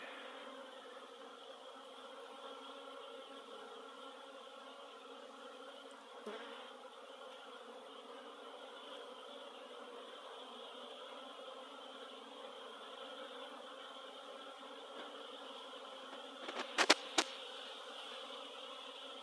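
Honeybees on their first cleansing flight of the year from hives, a dense, even buzz of many bees close and far around the apiary, with a couple of brief sharp knocks near the end.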